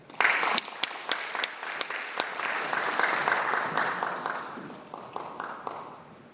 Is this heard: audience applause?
yes